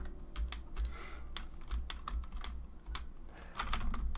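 Irregular clicking and clacking of computer keyboard keys being typed on while unbinding Minecraft controls, close and fairly quiet, with a few heavier thumps mixed in and no talking.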